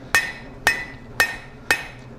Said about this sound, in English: put that side down, give it a couple taps, and just smooth all that out.